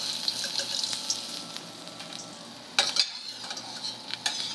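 Capers fry in hot oil in a pan, a dense continuous sizzle with crackling pops and a few sharper spatters, close and steady with no talking.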